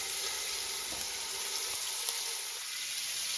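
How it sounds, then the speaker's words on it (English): Meat sears in a little oil in a pan or pot, giving a soft but steady sizzling hiss with a few faint pops, heard alone without any voices. "I'm gonna add a little bit of oil. And that's the sound you wanna hear. I'm gonna sear all the sides"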